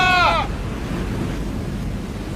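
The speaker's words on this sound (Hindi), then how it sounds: "समुद्री लहरें इतनी ऊपर उठकर हमारी तरफ आ रही हैं।" A stormy sea roars as a steady, dense rush of high waves, constant and loud, opening with a brief bleating cry before the surge noise takes over.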